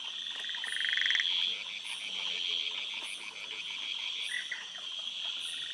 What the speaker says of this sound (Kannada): ನಾನು ಮೈಕ್ರೋಹೈಲಾ, ಕ್ಲಿನೋಟಾರ್ಸಸ್, ಇಂಡೋಸಿಲ್ವಿರಾನ, ಯುಫಿಲಿಕ್ಟಿಸ್ ಕೇಳಿಸ್ಕೊತಿದ್ದೀನಿ ಅಂತ